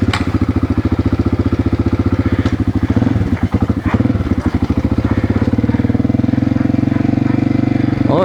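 A motorcycle assembled from worn spare parts fires up and idles with a loud, rapid, even chuffing pulse, catching a few uneven stumbles midway before settling back into a steady near running beat.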